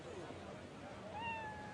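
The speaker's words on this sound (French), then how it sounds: "Vous voyez ces chats? Ils sont partout." A cat gives a single drawn-out meow, rising then falling, moderately close over a constant muffled background hum.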